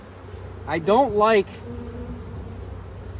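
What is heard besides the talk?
honeybees buzzing at a hive frame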